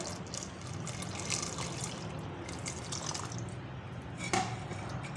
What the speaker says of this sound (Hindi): अब इसमें ठंडा यख पानी डालेंगे।